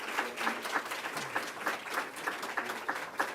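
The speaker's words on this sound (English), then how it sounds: "Let's give him a round of applause." Light applause from a crowd at a New York State government press event: scattered, fairly quiet claps in an uneven rhythm, heard alone without talk.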